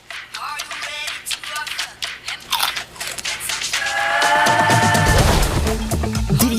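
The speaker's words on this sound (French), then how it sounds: "TUC, croquez pour le fun" Crunchy bites into TUC crackers in a French TV advert, several crisp crunches and crackles up front, then a swell of music and chimes.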